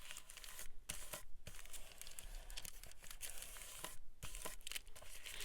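A sheet of paper for a ledger-style journal is folded over by hand: close, crisp crinkling and rustling in steady bursts, with a few brief quiet gaps.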